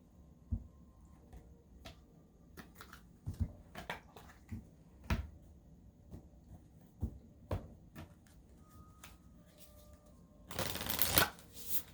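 Tarot cards being shuffled during a Capricorn forecast reading: scattered soft riffling clicks and taps through the quiet room, then a denser burst of rapid shuffling near the end.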